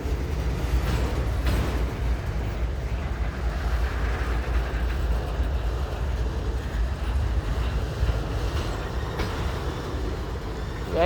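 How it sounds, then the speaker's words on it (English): A long CSX boxcar freight train keeps passing at Wartrace, Tennessee, a steady, dense rumble of rolling cars that holds at an even level throughout. "CSX boxcar train,"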